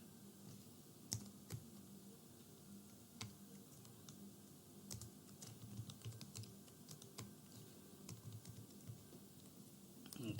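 Typing on a computer keyboard while coding in C/C++, a steady run of soft, close key clicks with a few sharper taps, alone with no talk.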